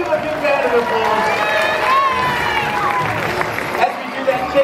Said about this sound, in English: Come on, give him a good round of applause.